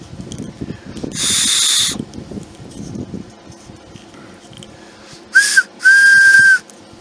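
A small object gives off sharp, bright whistles, first as one long burst and then as two brief ones near the end. They come through clearly over soft background rustling and handling noise.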